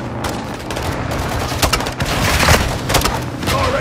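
A rocket launcher fires at an enemy vehicle in the Modern Warfare 2 video game, its heavy booms thudding through dense, continuous gunfire in a loud, chaotic battle.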